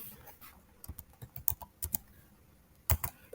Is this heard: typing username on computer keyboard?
yes